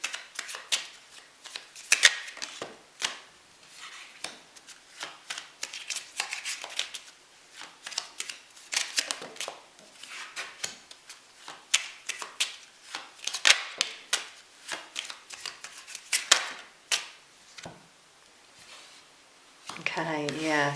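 Lenormand cards mixed together and shuffled by hand in quick, repeated riffles and slides, soft and close, continuing steadily for about twenty seconds with a brief voice at the end.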